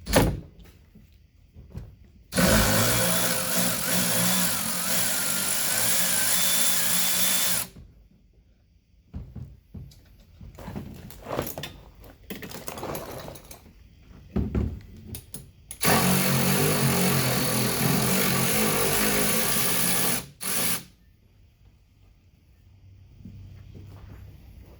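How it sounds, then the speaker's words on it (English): A power ratchet whirs while working on a Max IV 6x6 amphibious vehicle, coming in two long loud bursts of steady buzzing with clicks, knocks and handling noises between them, close by and without talk. "Let's see if this fancy ratchet will work."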